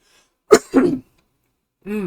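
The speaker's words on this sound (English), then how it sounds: "I will be coughing a bit. I have a thing stuck in my throat that I cannot seem to extract" A man clears his throat twice in short harsh bursts because something is stuck in it, then gives a brief voiced sound close to the microphone after a pause.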